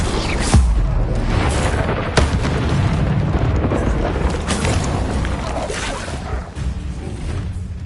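Incendio fire spell blasts from Hogwarts Legacy on PS5, booming bursts with a sharp crack near the start and another around two seconds, over dense rumbling game sound and music.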